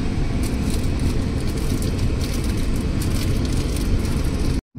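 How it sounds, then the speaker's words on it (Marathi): Road traffic waits and moves at signals on an MIDC road, giving a steady dense rumble of car engines and tyres. The sound cuts off abruptly at the end. "लागलेली आहे आम्हाला ट्रॅफिक"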